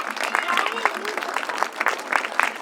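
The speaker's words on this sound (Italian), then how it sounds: "Quindi un bel applauso alle Proloco e a questa festa." An audience at a radicchio festival in Mirano applauds the Pro Loco volunteers, a brisk burst of clapping with voices mixed underneath.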